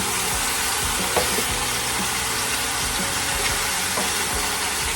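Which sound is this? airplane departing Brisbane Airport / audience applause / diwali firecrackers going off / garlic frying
garlic frying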